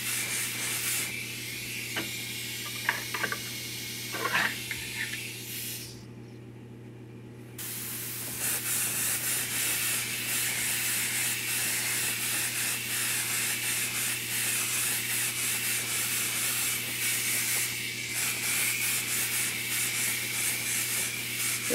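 Spray paint hissing onto a quarter-scale Aquaman figure sculpture in long, steady, close bursts after a few short sprays and brief rubbing sounds, loud and constant with no talking.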